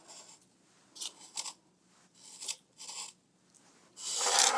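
Yarn is threaded through punched holes in a paper plate for a kids' heart craft, making a few close rasping pulls and rubs with pauses between, then a longer, louder scratchy drag at the end.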